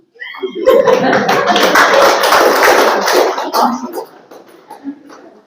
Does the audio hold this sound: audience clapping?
yes